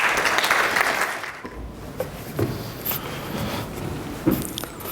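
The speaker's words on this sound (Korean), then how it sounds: "큰 박수 부탁드리겠습니다." An audience at a tech conference session claps: a dense burst of applause at the start that quickly fades out, followed by a few scattered handling noises and faint bumps.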